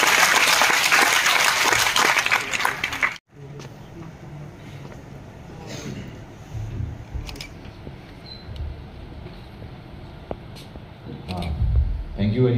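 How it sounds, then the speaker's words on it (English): A crowd of engineering college students claps loudly for about three seconds, then the applause cuts off, leaving quieter room noise with scattered voices. "Students, give a huge round of applause for sir."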